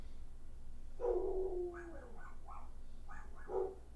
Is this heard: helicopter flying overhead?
no